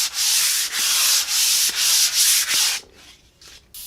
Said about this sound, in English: let's go ahead and do a once over on the entire workbench with 150 grit